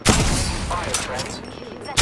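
Rapid gunfire in the battle royale game Apex Legends, a dense continuous volley of shots lasting the whole stretch, with sharp louder bursts near the start and end and faint voice chatter mixed in.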